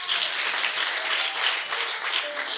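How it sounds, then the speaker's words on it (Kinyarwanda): A church congregation bursts into sustained applause during a pastor's sermon, a dense, even wash of many clapping hands with no break, filling the room. "Dukomere Imana amashyi."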